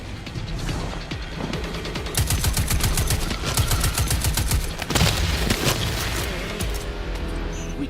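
Rapid bursts of automatic gunfire from the video game Destiny 2 rattle loud and close, with dense fusillades and a heavier blast near the middle over a steady game soundtrack.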